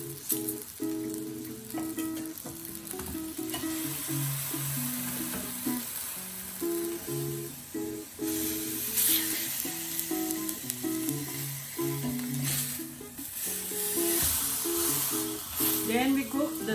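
Pork belly for crispy lechon kawali, cooked without oil, sizzles and crackles in a pan with steady frying hiss and occasional pops, close up, while music plays over it.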